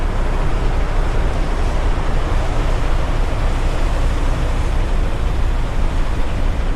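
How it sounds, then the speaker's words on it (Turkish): Black Sea surf pounding the shore under strong coastal wind, a loud, continuous broadband roar with no clear breaks between waves. "Valla bu dalgalar var ya adamı alır götürür ha."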